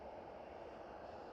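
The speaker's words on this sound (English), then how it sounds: "EHAM Cargo 777." A Boeing 777 cargo jet at Amsterdam Schiphol airport gives off a steady, broad engine roar, distant and even throughout the brief moment, with no talking.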